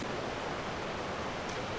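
River water rushing steadily along a riverbed below a waterfall in Japan, a dense, constant broadband roar heard close and alone with no voices.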